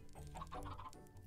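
Chickens cluck in the video game Minecraft in short, quick bursts, a soft, faint run of clucks over about a second.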